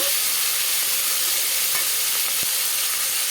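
Ingredients for peas dal khichdi fry in a pan, a steady close sizzle with a few soft stirring taps.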